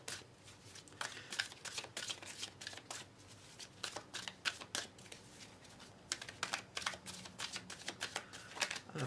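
Cards for a card reading are shuffled close up in rapid, irregular bursts of riffling and flicking with brief pauses between them, no talking.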